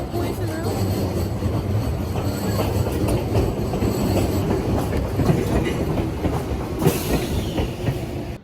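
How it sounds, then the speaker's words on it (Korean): A train rolls past at a station near Kamakura with loud rumbling and clickety-clack wheel noise, and brief squeals and a hiss toward the end. "기차가 여기 지나갈 거예요"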